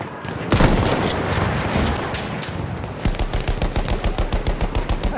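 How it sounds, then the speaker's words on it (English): Battlefield 1 machine gun fire rattles in a long sustained burst, then shifts into a rapid, evenly spaced string of loud shots; close and aggressive, with no voices over it. "machine gun over there"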